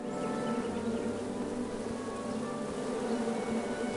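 Bees buzz continuously in King's Quest, a steady, close drone with a few tonal hums that stays even throughout and has no voices over it.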